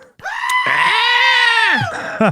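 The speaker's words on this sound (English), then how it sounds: "Please, may we have a goat scream?" A loud, drawn-out goat scream, a single harsh bleating cry lasting over a second, followed by a short second bleat.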